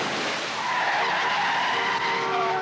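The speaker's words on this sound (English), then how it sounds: "The car thing, where it slides into that perfect parking spot in front of the pizza place" A car skids into a parking spot in front of a pizza place in a 1988 film scene, a loud sustained tire screech that rises in pitch and holds for a few seconds.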